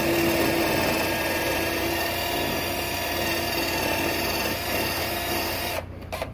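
A power drill bores a hole in a wall for a molly anchor, running as one steady, loud, continuous whine before cutting off abruptly near the end.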